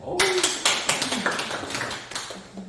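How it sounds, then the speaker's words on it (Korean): At a spirituality mentoring class, a small audience claps in a few sharp, uneven bursts, moderately close and briefly sustained, with a faint voice near the end. "박수 한번 쳐주세요"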